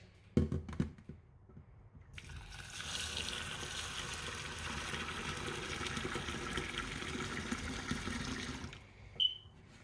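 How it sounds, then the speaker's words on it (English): Tap water gushes steadily into a pot as brown rice is rinsed in a home kitchen, a loud continuous rush after a few clicks and clatters, ending with a short bump. "So I'm going to put my brown rice to wash."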